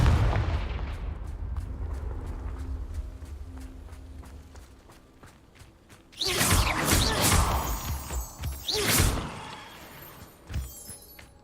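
Confringo spell blast in the Hogwarts Legacy video game, a sudden loud burst after quieter rhythmic footsteps, followed by several seconds of crackling, rumbling explosive bursts that fade in waves.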